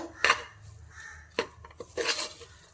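Onions and chillies frying in oil as a spoon stirs them around the pan, with a few clattering knocks and scrapes of metal on the pan over a low background of frying.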